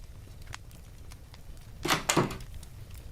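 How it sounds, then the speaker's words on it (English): Two soft knocks land on a wooden door, close and gentle, preceded by faint rustling and small taps in an otherwise quiet room. "Arriving at the door, you took a deep breath and knocked on it gently,"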